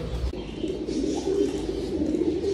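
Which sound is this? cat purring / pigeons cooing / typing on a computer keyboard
pigeons cooing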